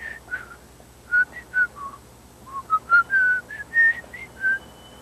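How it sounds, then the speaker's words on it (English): A person whistles a short, lilting tune of quick separate notes, clear and close, with brief pauses between phrases. "I whistle."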